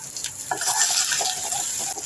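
Crushed native garlic, about ten to fifteen cloves, sizzles and crackles steadily as it fries in hot oil, close and fairly loud, with no voices.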